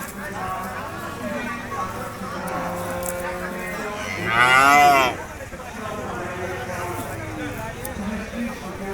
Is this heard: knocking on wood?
no